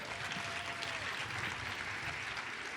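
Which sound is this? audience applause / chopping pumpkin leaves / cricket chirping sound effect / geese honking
audience applause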